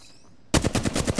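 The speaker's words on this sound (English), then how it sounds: "A second squad is firing on us." Rapid automatic gunfire from an enemy squad in the Apex Legends video game, which bursts in abruptly after a quiet moment and continues as loud, close, evenly spaced shots.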